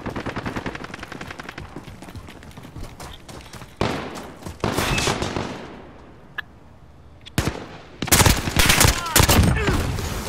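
Rapid automatic gunfire in Call of Duty: Modern Warfare multiplayer, loud close bursts of shots in a steady rattle, a pause, then renewed heavy firing, with faint voices underneath.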